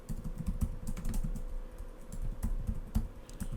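Fingers typing Python code on a computer keyboard, a quick irregular patter of close key clicks with occasional heavier keystrokes, quiet and alone with a faint steady hum underneath.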